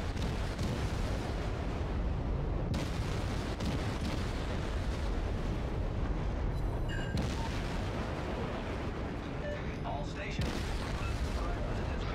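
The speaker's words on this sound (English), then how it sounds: "Open fire on it. Shoot more." Naval gunfire from the destroyer Benson in a World War II naval battle game, heavy booming salvos rumbling continuously through the whole stretch with a sharp break near the start and again later, with a voice talking over it at times.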